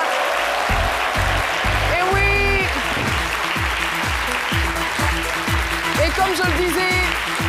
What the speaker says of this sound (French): Je vous demande d'applaudir très fort Monsieur Nyang Marc